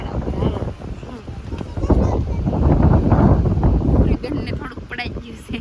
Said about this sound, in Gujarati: અહીંયા બહુ બહુ અવસ્થા ને વાર એટલો લાગે હે પવન જ એટલો છે